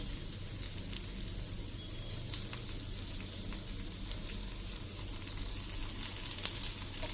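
Fried-free bhajiya cooking in an appe pan with a little oil make a quiet, steady sizzle and hiss, with faint crackles and a few light clicks of turning, and no talking.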